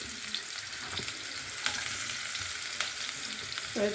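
Ginger and garlic frying in a pan, a steady, close hiss of sizzling oil with faint scraping and stirring taps, no voices.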